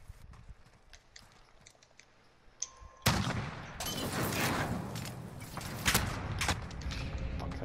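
Shotgun fire in a first-person shooter game: near silence with a few faint clicks, then a sudden loud blast followed by dense, continuous crackling noise of rapid gunfire and effects.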